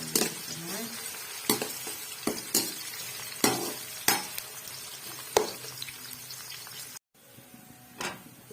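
Onions fry in a pan for a fish curry, a steady close sizzle broken by sharp scrapes and clinks of a spoon stirring against the metal, with a brief silent gap near the end.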